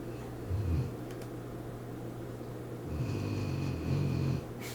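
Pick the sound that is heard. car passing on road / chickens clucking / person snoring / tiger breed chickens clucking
person snoring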